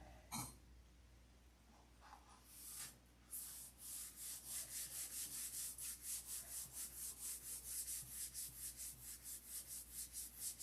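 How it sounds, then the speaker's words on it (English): Rhythmic hand sanding, quick back-and-forth rasping strokes in a steady repeating pattern, fairly close, after a few scattered scrapes at the start. "many hours of this tinkering and sanding and primping"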